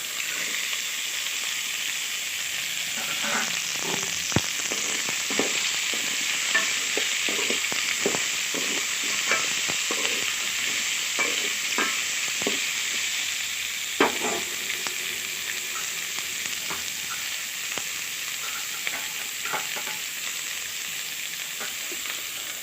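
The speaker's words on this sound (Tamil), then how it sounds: "அரிஞ்சு வச்ச வெங்காயம் பூண்டு காஞ்சி மிளகாய் மூணுத்தையும் போட்டுடலாம்" Onion, garlic and dried red chilies fry in a pan with a steady loud hiss and sizzle, broken by scattered stirring clatters and pops, close up and without speech.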